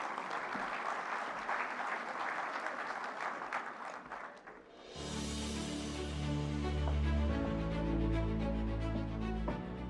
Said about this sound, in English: One big last round of applause for all our winners so far